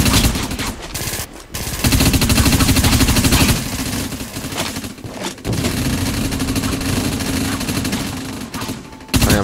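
Assault rifle fire in the Dust 514 video game comes in long, dense automatic bursts, loud and close, broken by a few short pauses.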